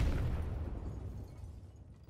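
A grenade explosion in a shooter video game, a loud low boom already under way that rumbles and decays over about two seconds, with no voices.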